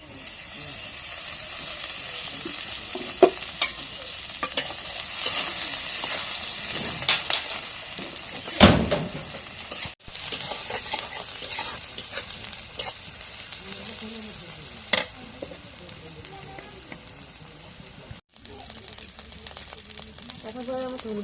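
Cooking oil sizzles and fries in a wok (kadai) in a home kitchen as fish is cooked, a steady hiss with bursts of spattering and stirring clatter, under someone speaking at times.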